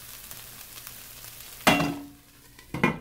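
Chili peppers dropped into a hot pan with onion for a fish stew catch in a sudden loud sizzle that fades, followed by a second burst of frying and stirring, close by with no talking.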